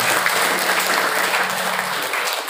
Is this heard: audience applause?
yes